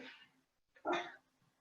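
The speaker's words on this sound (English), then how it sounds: "You might hear my little doggy barking here." A small dog lets out two short, faint yaps in a quiet room, with a pause between them.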